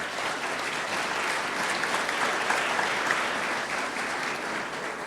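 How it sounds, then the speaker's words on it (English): An audience at a West Virginia State University campaign announcement gives Greg Burton a steady round of applause. The even, dense clapping comes from a sizable crowd and holds at a constant level throughout. "Let's give him another round of applause."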